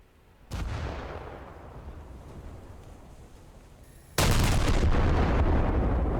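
Heavy naval guns of the battleship Scharnhorst fire shells in War Thunder, a loud booming blast followed by a long fading rumble, then a second louder salvo near the end, with no talk.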